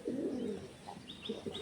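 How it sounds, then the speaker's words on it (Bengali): Pigeons or doves coo softly at a backyard nest, with low murmuring calls repeating through the short stretch and a few faint higher chirps mixed in near the end. "ঘুঘু পাখি ছিল সামনে"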